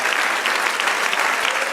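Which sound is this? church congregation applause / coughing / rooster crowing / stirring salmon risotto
church congregation applause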